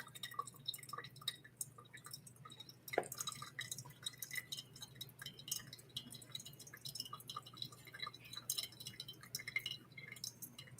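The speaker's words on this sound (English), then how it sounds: "Let that fully drain out." Coffee draining through a Hario V60 pour-over brewer with Kenyan beans, faint irregular drips and small trickles into a vessel, quiet and close, with occasional light glassy clinks and no talk.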